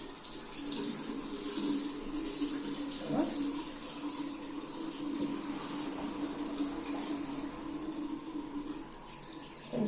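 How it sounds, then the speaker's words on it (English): Running tap water splashing steadily over a plastic dinosaur toy being washed under a faucet, a continuous close rush with a brief clatter partway through. "Just need some more washing."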